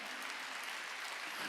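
Worshippers at a Korean church's Wednesday service clap together, a continuous, even wash of applause that holds steady throughout, with no talk over it.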